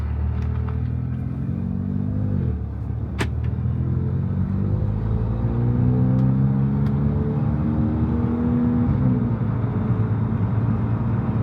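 A cheap Audi with major engine damage drives off, its engine rumbling close and steady as the pitch climbs through gear changes, with no talk over it.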